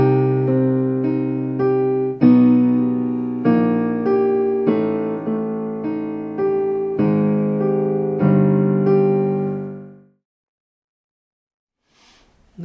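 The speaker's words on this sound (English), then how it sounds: "When we put both hands together, it sounds like this." A song played on piano with both hands: a run of clear chords and melody notes in a steady rhythm, each struck and left to ring, then a fade into silence near the end.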